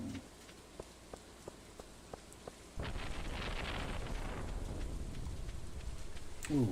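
Rain falls in the Stardew Valley farming game. Faint isolated ticks come first, then a steady hiss of rainfall sets in and holds at a soft level, with no speech over it.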